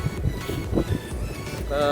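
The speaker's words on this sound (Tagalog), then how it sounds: "Sobrang lakas na hangin eh." Strong gusting wind buffets the microphone with a low, steady roar that swells louder toward the end.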